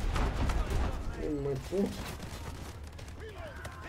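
Gunfire in Delta Force Hawk Ops, scattered shots and bursts in the background of a busy battle, partly under someone speaking Portuguese.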